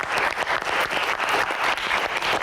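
A studio audience, including university students from Jakarta, claps throughout on a Metro TV Q&A talk show, a thick, continuous burst of applause from a crowd close to the microphones.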